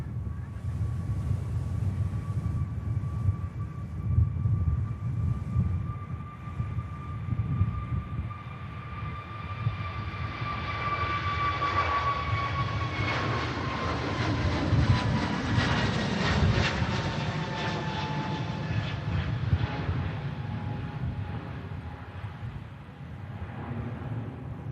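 A Pegasus airliner departs from Manchester Airport, its jet engines rising from a whining tone into a loud, swelling roar with a shifting pitch as it passes, then a steady low rumble that slowly recedes.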